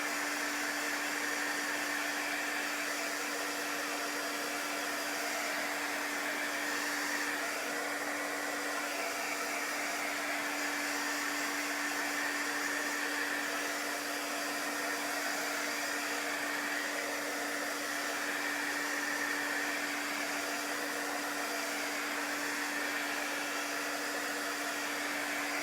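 A heat dryer blowing steadily on a chalk-painted craft piece, a constant even whine and rush of air lasting the whole stretch, close and unbroken, with no voices.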